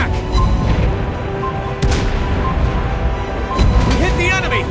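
Naval gunfire in World of Warships Blitz, loud booming shots and blasts in dense game audio, with a voice heard over the combat noise.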